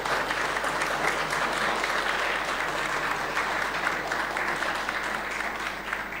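An audience claps at a Mapinduzi Cup 2026 football tournament event, a loud, dense, sustained round of applause that fills the room and tapers slightly at the end.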